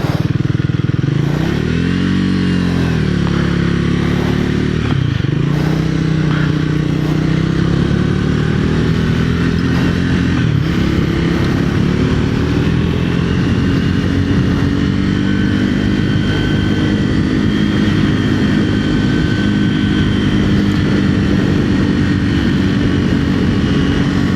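Triumph Speed 400 motorcycle engine, a 2025 model, droning steadily while riding at cruising speed, loud and close throughout with engine pitch rising and falling through gear changes and throttle shifts.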